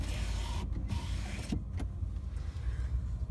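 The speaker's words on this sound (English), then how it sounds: "rear sliding window." An electric motor hums steadily as the rear sliding window of a 2013 Ram 1500 BigHorn pickup moves, heard close inside the cab with a few brief mechanical clicks and pauses.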